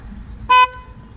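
A Bajaj Pulsar motorcycle horn gives one short, loud beep, a bright tonal honk lasting a fraction of a second over quiet low background rumble.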